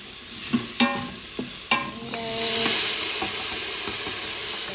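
Curry powder stirred quickly in a pot, with a few sharp spoon scrapes and clinks over a rising, steady sizzle that grows into a broad hiss.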